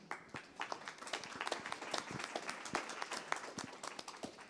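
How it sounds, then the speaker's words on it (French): A small audience at an employment and recruitment session claps, with individual hand claps distinct and uneven, fairly quiet and sparse across a few seconds. "On applaudit également."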